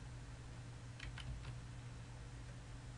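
A few quick keystrokes on a computer keyboard, three or four light clicks close together, faint against a low steady hum.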